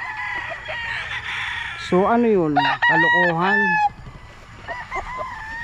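A gamecock rooster on a farm gives one loud, close crow lasting about two seconds, followed by fainter clucking from the flock, while someone talks before and after.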